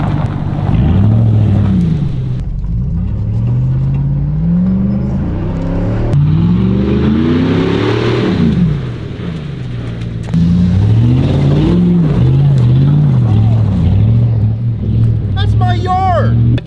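An LS V8 engine revs hard nearby, loud rising and falling sweeps of throaty roar with a brief dip midway, and people talking over the engine noise.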